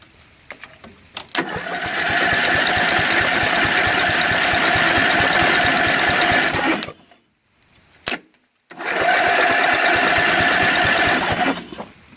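A Craftsman LTV10 Varidrive lawn tractor engine cranks over loudly on a portable jump starter in two long bursts of steady, rapid churning, separated by a short pause and a brief click, without catching.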